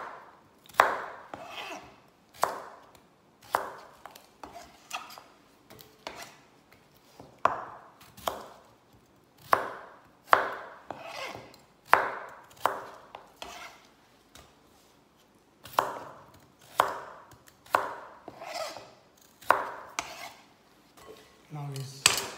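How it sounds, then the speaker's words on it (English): A knife cuts potato into wedges on a board with sharp, close knocks, about twenty of them in a loose, uneven rhythm, each with a short ringing tail. "Cut wedges potato like this."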